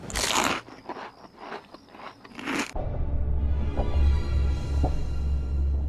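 Crisp crunching bites of toast come in a rapid series of sharp, close bursts, then give way to a steady low hum with a couple of faint clicks.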